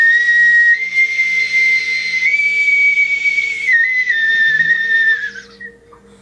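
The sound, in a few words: pre-Columbian whistling water vessel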